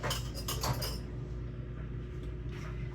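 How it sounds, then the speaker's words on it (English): Metal tongs clink sharply against a pan a few times while flipping steak on a stove, followed by a steady low sizzle and hum. "I'm going to grab my tongs so that I can flip over my steak"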